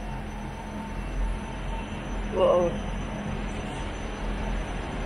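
Onboard a South Western Railway Class 159 diesel multiple unit departing London Waterloo, a steady rolling rumble and engine drone with a brief squeal midway, while a voice exclaims once.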